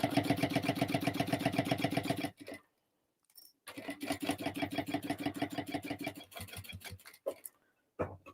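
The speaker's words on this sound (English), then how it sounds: "I'm just going to run a row of stitching along the top here just to keep it in place." A sewing machine runs a row of stitching along the top of a bag, a close, rapid, even needle chatter in two long runs separated by a pause, with brief clicks and handling noises at the end.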